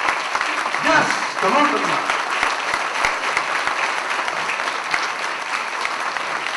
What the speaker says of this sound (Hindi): इसके लिए ताली बजाएं